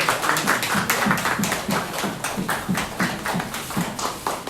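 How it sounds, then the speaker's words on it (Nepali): An audience at a Nepali community anniversary celebration claps in a quick rhythmic beat, many hands striking together in a fairly close, loud pattern that keeps going throughout. "कृपया ताली बजाइदिनु होला।"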